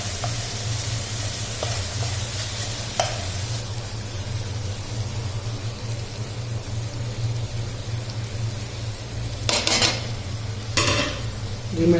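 Pasta stirred and fried in a pan on a low flame, a steady soft sizzle broken by a few sharp utensil clinks against the metal.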